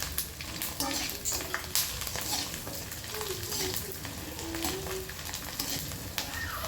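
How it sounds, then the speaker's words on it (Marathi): Chakli snacks deep-frying in hot oil, a continuous bubbling sizzle with occasional clinks and stirring, close by, with faint voices in the background. "आता चला तेल टाकलंय तर चकल्या तळते मी."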